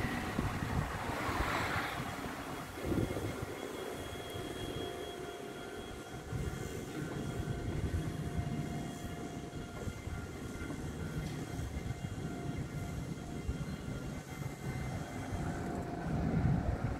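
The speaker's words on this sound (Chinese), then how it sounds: "我拍的是有列车通过。" A TEMU1000 Taroko Express tilting train passes at Ruifang, Taiwan, a steady broad rumble and rush of wheels and air with wind noise across the microphone, building slightly toward the end.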